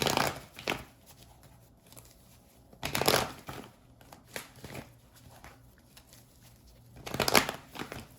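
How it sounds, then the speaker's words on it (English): Tarot cards being shuffled in three short, soft bursts a few seconds apart, with quiet pauses between them. "One more shuffle."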